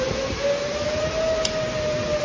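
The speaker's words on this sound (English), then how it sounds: "Some in the Dallas area woke up to tornado sirens wailing" A steady, sustained tornado siren tone holds a nearly constant pitch over a low rumble of background noise, sounding distant and continuous throughout, during early-morning storms in Dallas, Texas.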